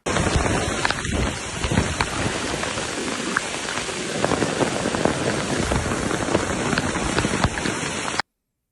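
Heavy rain pours steadily onto surfaces during a street protest, a dense, loud hiss throughout with a few low thunder rumbles beneath, ending abruptly, with no voices heard.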